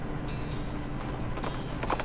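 Horse trotting in the western game West of Loathing, a steady quick clip-clop of hooves over a constant background bed, no voices.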